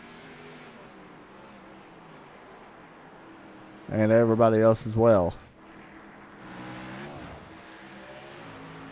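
iRacing race cars roll down pit road at Daytona under a steady background drone; a loud, close engine rev bursts out in three quick surges midway, with a commentator talking throughout.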